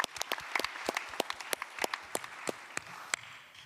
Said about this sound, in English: we got applause for Emma Stokes.